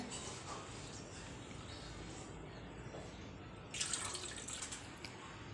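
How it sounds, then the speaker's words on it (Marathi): Close, quiet swishing and dripping of water as rice grains are stirred and rinsed by hand in a second change of water, with a brief louder splash near the end. "दुसऱ्या पाण्याने आपण हे तांदूळ धुवून घेऊयात"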